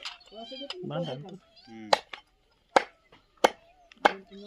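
Several short, sharp meows from a nearby cat, repeated at intervals, with people talking briefly at the start.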